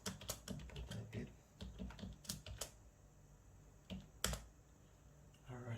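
Keys tapped on a computer keyboard while a new root password is entered, quiet clusters of clicks in irregular bursts with pauses, close by, with faint background noise and no talk.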